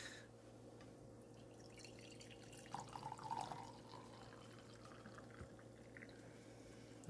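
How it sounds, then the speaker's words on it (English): Hot mango tea is poured into a cup in a faint, quiet stream with a brief, louder trickle near the middle, over a low steady background hum. "My turn to pour."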